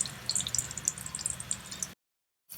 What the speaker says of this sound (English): See, you can still find a little bit of bubbling.